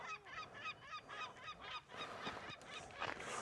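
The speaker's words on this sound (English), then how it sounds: "Some noisy gulls." Noisy gulls call on a mountain scramble, a quick series of repeated honking cries close by, fairly faint overall.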